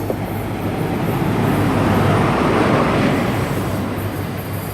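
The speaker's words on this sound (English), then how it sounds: "arriving in now is a delayed 10:05 Great Western Railway service to London Paddington, originating from Worcester Shrub Hill" A delayed Great Western Railway passenger service from Worcester Shrub Hill to London Paddington rolls into Swindon station, a steady loud rumble of train noise that holds for several seconds.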